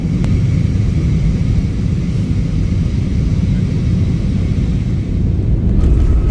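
Airliner cabin during landing in Korea, a loud steady low engine and rumble roar filling the whole stretch without letup.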